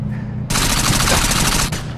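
Alien guns in the Gangsters Vegas Alien Wars game fire a loud, rapid automatic burst lasting over a second, sharp and close, after a brief quieter lead-in.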